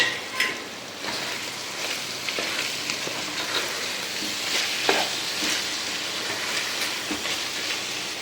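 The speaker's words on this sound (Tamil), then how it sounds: "அதில் கொத்தமல்லி தழை சேர்த்து ஒரு கிண்டி கிண்டிட்டு தயிர் சேர்க்க வேண்டியதான்." Soya chunk biryani masala with fresh coriander leaves being stirred in a pan, a constant close frying sizzle with scattered scrapes and clicks of the spoon throughout, moderately loud and steady, no voices.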